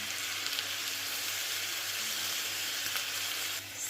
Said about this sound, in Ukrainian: і далі смажимо гриби з цибулею та морквою